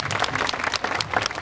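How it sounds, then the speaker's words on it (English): A state fair crowd claps loudly and densely for an Arctic fox named Topeka, a brief burst of many hands with no speech over it. "you give her a round of applause"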